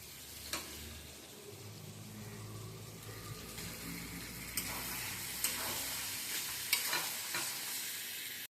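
Chicken pieces are stirred into a sizzling curry spice paste fried with cumin and coriander powder. There is a steady close frying hiss with scraping stir strokes and occasional sharp ticks of the spoon against the pan, and no talking.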